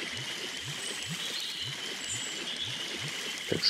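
Flowing water in the video game Finding Bigfoot: a steady, hissing stream rush that runs throughout, with soft low thuds repeating at an even pace beneath it.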